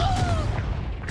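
A Confringo blast spell fires in the Hogwarts Legacy video game, one short booming burst with a whooshing tonal sweep, close and fairly loud.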